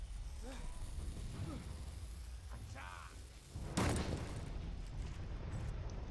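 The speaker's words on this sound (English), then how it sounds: "we're just gonna keep throwing grenades until it hits the bomb" A single heavy grenade blast bursts out midway through a battle scene in the video game Valiant Hearts: The Great War, over low rumbling game ambience and muffled voices.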